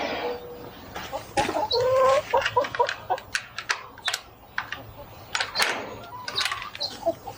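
Chickens clucking and murmuring close by in a coop, a steady run of short calls and chirps with occasional louder squawks, no talking.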